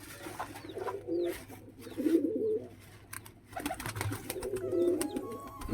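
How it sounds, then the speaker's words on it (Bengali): Domestic pigeons coo in low, repeated bursts from a nearby loft while new birds are being added, with soft ambient noise between the calls. "এখন নতুন পায়রা ঢুকাবো।"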